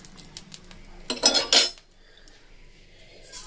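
A fried dry red chili being set down onto a metal plate: a short, bright metallic clatter and scrape near the middle, close up in an otherwise quiet kitchen, with no voices.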